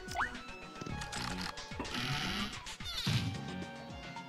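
Sleepy Sheep enemy from the video game Super Paper Mario bleating, short wavering cries over busy game music and mechanical clicking sound effects.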